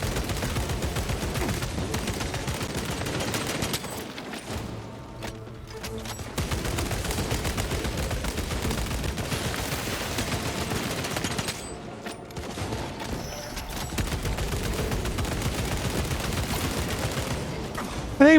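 Sustained gunfire from a Space Marine 2 firefight rattles loud and dense almost throughout, with two brief lulls and no voices heard.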